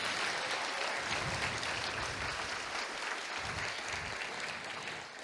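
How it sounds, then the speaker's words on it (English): A banquet audience applauds student speakers, a dense sustained wash of clapping from a roomful of people at moderate distance, tapering slightly at the end. "Can we just give them one last clap?"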